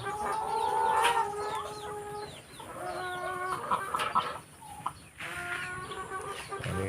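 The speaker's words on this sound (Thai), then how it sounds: "อันนี้ ไก่พันไข่ครับ เลี้ยงไว้สามสิบโตไข่คู่มือ" Laying hens clucking in a small backyard flock of about thirty, a steady close chorus of overlapping clucks and cackles over faint outdoor ambience.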